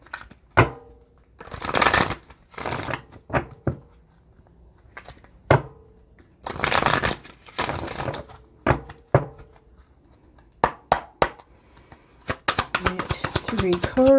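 Tarot cards from a deck being shuffled by hand, with papery riffling bursts and sharp taps and flicks coming in irregular clusters, close and clear, then a quicker run of snaps toward the end.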